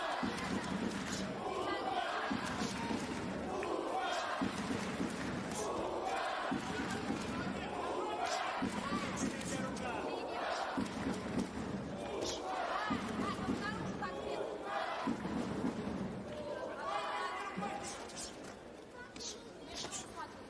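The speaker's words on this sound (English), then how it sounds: "the crowd immediately trying to get behind the home man here" A boxing arena crowd in Ufa, Russia roars and chants in rhythmic waves for the home fighter, loud and sustained throughout, with a commentator talking over it.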